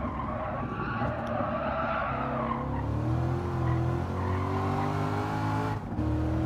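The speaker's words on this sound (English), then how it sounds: "Brake around here, stand on the brake pedal." An AMG GT or C7 Corvette braking hard on a race track, tires squealing in a long rising and falling screech over the engine's drone, close and sustained, with a brief dip near the end.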